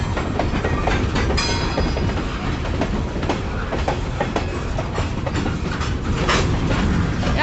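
A Kiamichi Railroad train passes at 3 a.m., a continuous loud rumble with rhythmic clickety-clack of wheels over rail joints and faint squeals, no voices.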